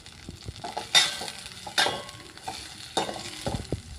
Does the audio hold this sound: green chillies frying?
yes